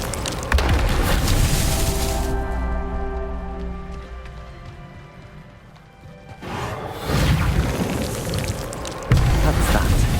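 In Hogwarts Legacy, a Reparo repair spell rebuilds broken wood. A sustained shimmering magical hum with layered tones fades in and out, framed by loud crashing, whooshing bursts before and after.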